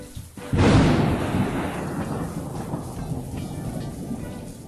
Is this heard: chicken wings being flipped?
no